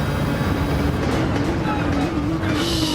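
A race car in a video game circuit race at the Red Bull Ring runs at high revs with a steady, loud engine drone held throughout, the pitch shifting slightly, while a commentator talks over it.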